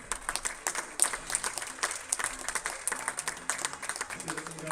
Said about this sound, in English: please, a big round of applause for the first of our finalists, Sivasangari Subramaniam.